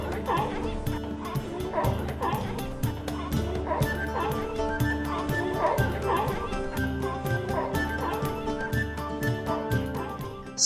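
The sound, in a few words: fur seals barking, Otago Peninsula, New Zealand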